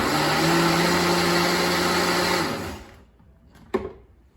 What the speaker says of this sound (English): hit it one more time with the blender